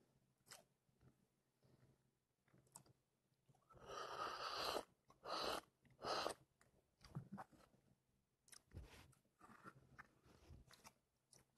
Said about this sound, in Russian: и я ем блины.